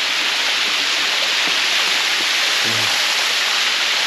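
Steady broadband rush of flowing water from a mountain stream in Shivapuri Nagarjun National Park, continuous and fairly close, with a few faint knocks underneath.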